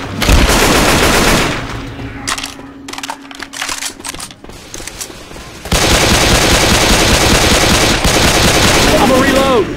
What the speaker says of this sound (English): I'm using a assault rifle.